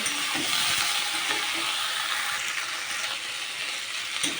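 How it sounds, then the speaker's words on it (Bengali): Eggplant pieces sauté in a hot pan for a Bengali river-fish curry, giving a steady, close sizzle with light scraping and stirring throughout. "দেখো বেগুনটা আমার কষে আসছে মোটামুটি কষে গেছে"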